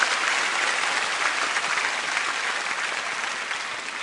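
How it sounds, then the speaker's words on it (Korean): A church congregation claps steadily to encourage a student preparing for exams, the even applause filling the whole stretch without any speech. "그 친구를 위해서 박수 한번"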